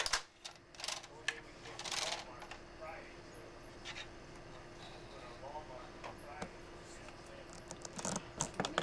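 A hand knitting machine works a small doll sweater, its carriage giving quiet clacking and sliding strokes with sharp metallic clicks scattered throughout, faint and close.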